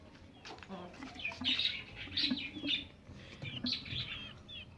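Several birds, including a parrot, chirp and tweet at a home bird-care setup with pigeons, hens and chicks, producing a busy scatter of quick calls with faint fluttering underneath.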